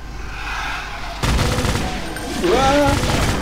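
Rapid gunfire from Brutal Doom (Extermination Day mod) crackles in dense bursts, starting quieter and then turning loud and continuous, with a brief whistling tone near the end.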